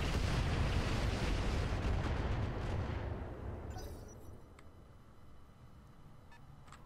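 Mech weapons in the game Roguetech, including arm-mounted MML7 launchers, pound a turret in a dense, loud barrage of blasts that fades out into quieter scattered impacts and crackles.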